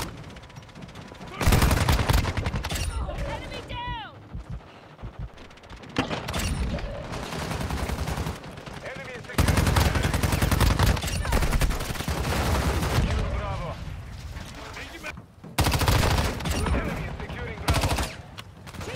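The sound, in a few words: gunfire from a gun in the video game Warzone Mobile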